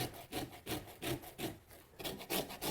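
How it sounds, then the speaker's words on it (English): Orange peel rubbed against a standard small-hole grater, giving a steady series of close, rhythmic rasping strokes, roughly two or three per second, each a short scratchy burst with brief pauses between. "I still have to grate my orange peel"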